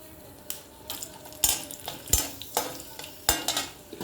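Spices and red chilli frying in a pan for a cabbage, carrot, beans and paneer curry, with soft sizzling under several sharp spoon scrapes and clinks against the pan at uneven intervals.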